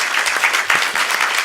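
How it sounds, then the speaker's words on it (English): A short, dense burst of audience applause at a city government meeting, steady clapping from a room of people with no talk over it. "Give her a round of applause."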